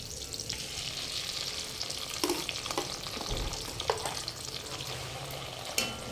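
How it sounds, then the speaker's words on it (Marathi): Onion paste fries in oil for a paneer masala gravy, a continuous close sizzle broken by spoon scrapes and stirring clatter, with no voices. "मी थोडं तेल पण याच्यात ॲड करून घेत आहे. आता यामध्ये मी कांद्याची पेस्ट टाकून घेत आहे."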